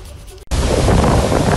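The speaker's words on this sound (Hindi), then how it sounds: "ये उफनती लहरें किसी समंदर के नहीं बल्कि ओडिशा के हीराकुंड डैम की है।" After a brief quieter moment, water released through the sluice gates of Hirakud dam in Odisha surges in a loud, continuous, broadband roar.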